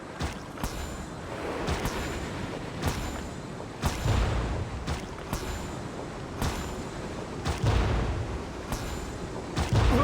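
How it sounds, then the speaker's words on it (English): Bombs explode during a Genshin Impact birthday event battle, with a rapid series of sharp booming blasts and crackling bursts repeating throughout over continuous game noise. "Bombs! Ha! Perish, you scoundrels!"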